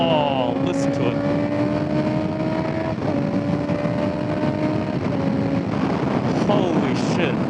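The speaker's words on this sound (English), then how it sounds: "The four-cylinder noise, there's a slight whine" A Honda CBR650R four-cylinder motorcycle revs hard after a downshift, its engine note rising and falling with a slight whine, steady and close throughout with wind rushing over the microphone.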